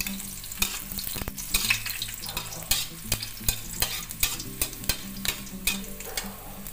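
Garlic sizzles in hot oil while a spoon stirs it, with rhythmic scraping strokes against the pan repeating roughly every half second over a constant close frying hiss.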